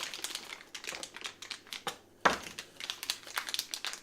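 Ziploc plastic bags from a Cross RC trailer kit rustle and crinkle close by, a run of quick irregular crackles with one louder crunch midway, fairly quiet and without any talking.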